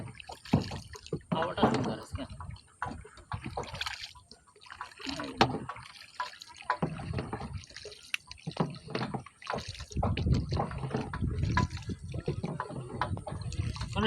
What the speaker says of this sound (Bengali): খুব সুন্দর চলছে নৌকাটা আজকে